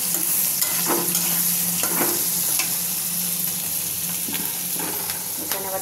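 Boiled flat beans fry in plenty of oil, a dense steady sizzle close by with repeated stirring scrapes every second or so; nobody speaks.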